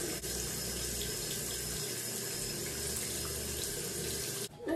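Tap water runs steadily into a sink while hands are wetted before applying hair mousse, a continuous close splashing stream that cuts off near the end.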